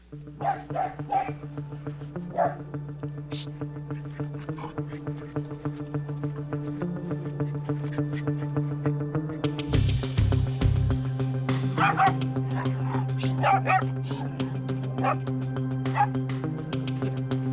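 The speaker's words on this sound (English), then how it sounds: "when she starts barking again" A dog barks and yips in short bursts over a steady low hum, with a louder cluster of barks partway through.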